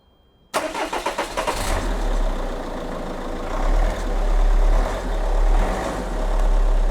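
A car engine cranks over with a Nexpow jump starter, catches on the first try and settles into a steady, close idle that swells and dips slightly in revs.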